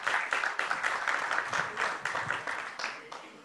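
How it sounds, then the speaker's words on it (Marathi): Audience applause bursts out for actress Renuka at the trailer launch of the Marathi film Janiva in Mumbai, a dense crowd clapping steadily at moderate loudness for a few seconds before she begins speaking. "जोरदार टाळ्या रेणुका यांच्यासाठी"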